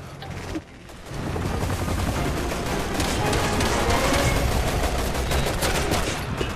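Sustained automatic gunfire from enemies carrying guns in Resident Evil 6, with rapid overlapping bursts that start after a brief lull and continue loud and dense throughout.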